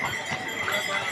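Horse hooves clip-clop on the rainy Kedarnath mountain trail, a steady muffled plodding buried in continuous outdoor hiss and wind noise.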